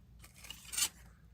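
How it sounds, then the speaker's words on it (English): Scissors moved on a table, a faint, brief metallic shuffle and clink in a quiet room. "Move the scissors."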